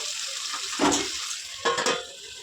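Chicken liver curry with kanda (yam) simmering in oil in a pan, a steady soft sizzling bubble throughout with two brief louder stirring or scraping bursts, close and alone.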